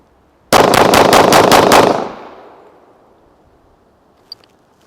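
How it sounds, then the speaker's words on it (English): Rapid string of about seven loud, close pistol shots from a Rock Island Armory Tac Ultra FS 1911 in .45 ACP, fired in fast even succession outdoors, then a ringing decay into quiet with a small click at the end. "Let's test out some rapid fire."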